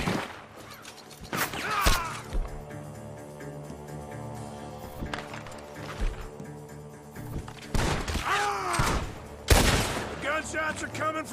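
Gunfire from inside a barn in Red Dead Redemption 2: several sharp, loud shots burst out in separate clusters over game music and ambience, with voices talking between them.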